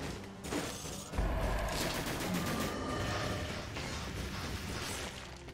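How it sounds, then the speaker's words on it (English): A grenade exploding in the video game Dead Cells, a heavy boom that merges into dense, sustained rumbling and crackling game effects with no talking. "that was the explodey grenade"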